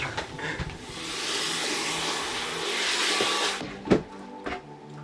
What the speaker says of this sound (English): Hey, we got a vacuum.